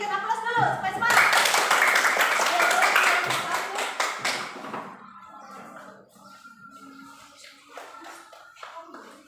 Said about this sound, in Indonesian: Silakan berikan aplaus dulu supaya semangat.